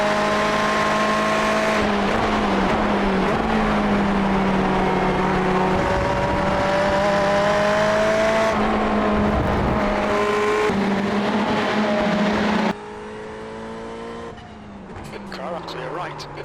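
A Ferrari 488 race car engine howls in the iRacing simulator at Spa-Francorchamps, holding a loud, sustained whine through each gear with shifts and pitch changes, then dropping in level near the end.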